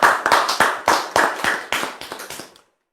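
Hands clapping in praise of the Lord at a church gathering, a series of about ten sharp, evenly spaced claps that slow slightly and fade before stopping, with no talk over them.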